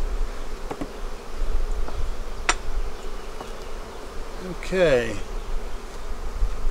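Honey bees buzz steadily around opened hive boxes while two beehives are combined into one bee barn, a dense close swarm drone with a brief spoken word partway through.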